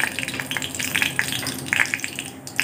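Cinnamon, cardamom and cloves fry in hot oil inside a pressure cooker, giving a close, continuous sizzle scattered with small crackles and pops.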